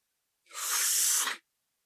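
A single sharp sneeze bursts out close by, lasting about a second, with silence before and after.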